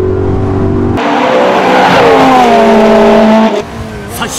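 A BMW M3 E92 accelerates hard during a touge race on the Gunsai mountain pass, its engine revving loud and close with rising, shifting tones before the sound drops off abruptly, heard alone without talking.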